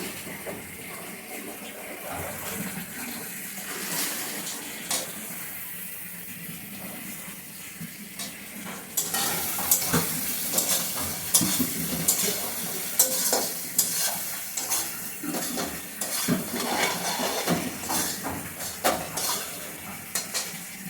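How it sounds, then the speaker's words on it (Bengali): Boiled eggs are frying with spices in a pan, giving a soft sizzle with stirring scrapes that grow louder partway through, close but fairly quiet. "আমি সমস্ত মশলার সাথে ডিমগুলিকে ভালো করে ভেজে তুলে নিচ্ছি।"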